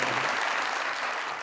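An audience at a Daisbook with Junaid Saleem show claps throughout a brief burst of steady, dense applause, loud and sustained without any voices over it.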